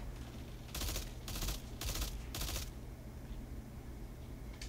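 Four quick bursts of exotic pulse rifle fire in Destiny 2, each a rapid rattling volley, evenly spaced and loud against low background game noise.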